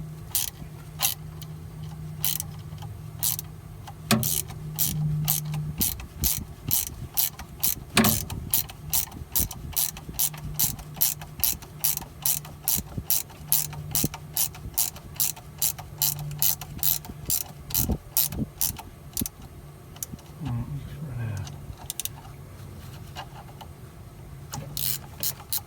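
A hand ratchet clicks steadily as it turns a bearing puller drawing a bearing off a 12 kW Powertech generator that is not making power. The rapid, regular clicking runs for most of the stretch, close and fairly loud, with occasional clanks and no talk.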